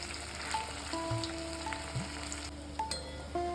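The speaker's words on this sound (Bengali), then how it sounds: "দেখুন আমার কোপ্তাগুলো সব সুন্দরভাবে লাল লাল করে ভাজা হয়ে গেছে।" Kofta balls fry in oil until reddish brown, giving a continuous close sizzle with occasional light taps and clinks as they are turned slowly, no voices over the steady crackle.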